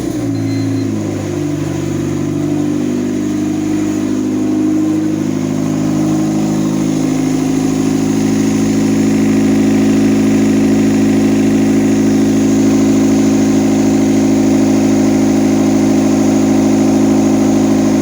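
Turbocharged Honda Civic with stock injectors and a fuel management unit idling just after start-up: a steady, loud, close engine drone whose settling pitch turns into an even hum, running alone without talk.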